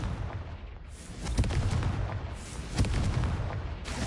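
Fiery blasting-spell explosions from the Hogwarts Legacy video game boom out as loud, rumbling bursts. Two or three heavy impacts roll over a dense crackling wash.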